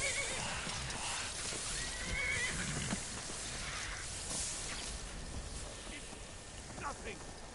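A horse in a video game whinnies a few times over a steady wash of rain, with faint hoof clops mixed in at middle distance.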